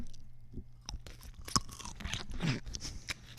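Close-miked ASMR crunching and chewing of a pickle, with sharp wet bites followed by irregular soft munching and squelching against near silence.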